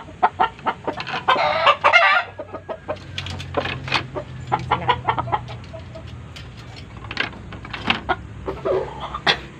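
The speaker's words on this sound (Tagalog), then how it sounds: "Mga alaga kong pansabong andito sila." Fighting roosters kept as gamecocks clucking and crowing outdoors, several birds calling in bursts close by, with one long crow standing out among the choppier clucks.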